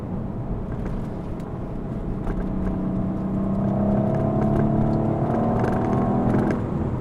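A 2021 Audi RS4 (B9) engine hums steadily while driving, with a low rumble and a rising drone as it gradually picks up speed.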